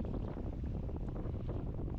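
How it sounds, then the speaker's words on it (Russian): Wind buffeting a microphone outdoors on a cold late-November fishing trip, a steady low rumbling roar with no pauses, loud and close, no voices. "Ветер."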